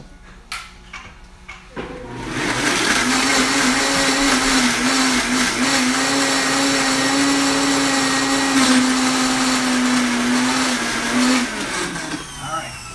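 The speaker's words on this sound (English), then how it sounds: "I'm gonna blend this up." Electric blender whirring through artichoke hearts, tomatoes and sardines at home, spinning up after a couple of seconds of handling noise and holding a loud, steady drone for about ten seconds before winding down.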